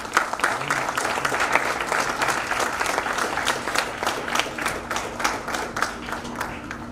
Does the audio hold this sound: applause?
yes